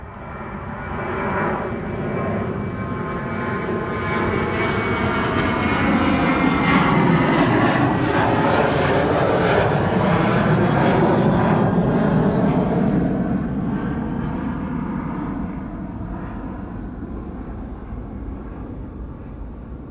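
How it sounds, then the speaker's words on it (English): KLM Boeing 737-800 jet departing Amsterdam Schiphol Airport on a flight to Stockholm, its loud engine roar swelling to a sustained peak and then slowly fading as it climbs away, with no voices. "This is KLM flight 1219 to Stockholm. It's a 737-800."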